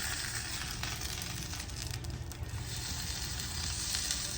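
A birria taco crisping in a non-stick skillet gives off a steady, low sizzle and crackle, soft and even throughout with no talking over it.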